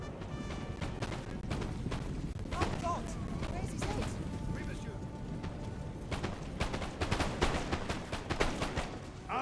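Musket volleys in Napoleon Total War, with friendly fire in an online battle: rapid, crackling gunshots in scattered bursts, fairly quiet amid battle noise, with someone talking over them.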